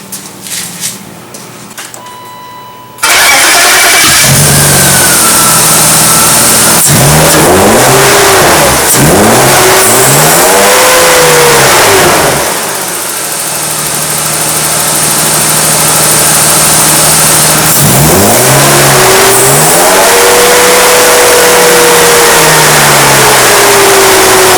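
A BMW E36 engine cranks and catches after a brief quiet moment, then runs loudly and steadily close by, with a few revs rising and falling over the idle.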